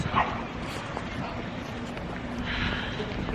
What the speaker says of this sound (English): There's also lots of puppies, and I'm excited to see them.